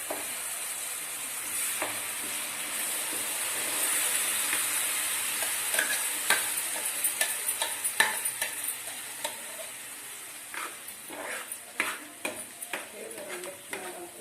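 A spoon stirs ground spice paste from the mixer into a pot of tomato sambar with red chilli and tempering, giving irregular close scraping and clinking strokes over a steady soft sizzling hiss, with no talk.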